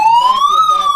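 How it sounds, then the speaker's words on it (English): A police siren sound effect plays on a broadcast talk show: a single loud, close wail that rises and falls in pitch, heard alone. "Turn the siren on."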